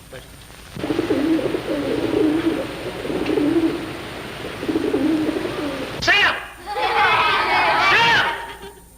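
Pigeons coo in a schoolroom under steady crowd chatter from children, with the bird calls rising more clearly near the end.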